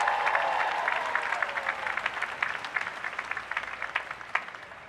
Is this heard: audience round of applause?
yes